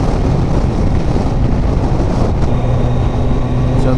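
A Kawasaki ZZR1400 motorcycle is ridden at speed on an open road, its engine a loud, steady drone mixed with heavy wind rush throughout, with a faint rising tone near the end.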